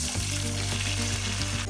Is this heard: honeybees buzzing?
no